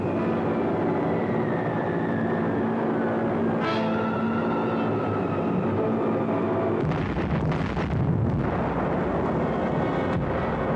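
Bombs falling from a Consolidated B-24 bomber over Messina, a loud continuous roar of engines and detonations with a descending whistle, then a heavier rumbling burst of explosions near the end, no speech.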